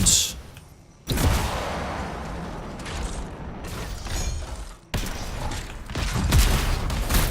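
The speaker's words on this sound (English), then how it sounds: "The explosions look really good." Explosions in the squad-based shooter Anthem land as two sudden, loud blasts, each followed by a dense crackling, rumbling wash of debris and effects.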